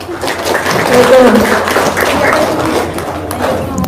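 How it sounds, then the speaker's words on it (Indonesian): An audience claps and applauds in a hall, a loud, dense wash of clapping that rises early and carries on steadily, with voices talking underneath. "tepuk tangan dong"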